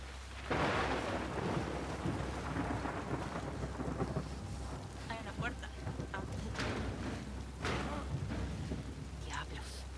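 Rain falls steadily with rolling thunder rumbling through the scene in the video game The Last of Us Part II, a dense wash of downpour with a few brighter crackles, while a person talks over it at times.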